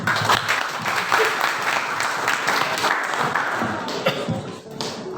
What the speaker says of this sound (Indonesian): Beri tepuk tangan sekali lagi untuk paslon nomor urut 1.